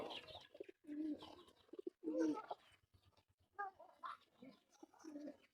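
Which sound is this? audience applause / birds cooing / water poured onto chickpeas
birds cooing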